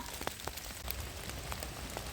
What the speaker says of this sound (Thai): ฝนตกพี่น้องจ้า